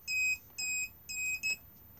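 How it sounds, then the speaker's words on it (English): Four short electronic beeps in quick succession from a 2021 Compass Casita 586 caravan fridge control panel, warning it is not hitched up, clear and steady-pitched, the last one briefer, with no voices. "if I press this, it will beep at us because we are currently not hitched up."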